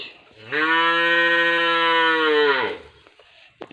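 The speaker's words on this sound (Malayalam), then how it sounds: "എൻ്റെ പശുക്കുട്ടിയാണ് ഇങ്ങനെ ഒച്ചുണ്ടാക്കുന്നത്." A calf lets out one long, drawn-out moo close by, steady for about two seconds before trailing off.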